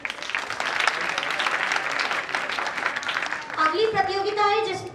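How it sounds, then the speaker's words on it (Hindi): Loud clapping fills a school award ceremony, a steady dense wave of applause that carries on until tonal sounds, like music or a voice, rise over it near the end. "जोरदार ताली।"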